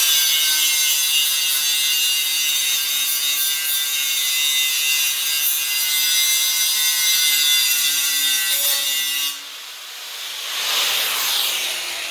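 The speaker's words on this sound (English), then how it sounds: "So grind that down a hair, and we'll go from there." An angle grinder works a metal surface clean before welding on a Duesenberg Model A build, producing a loud, steady, hissing grind that holds for about nine seconds, then drops off and briefly surges again.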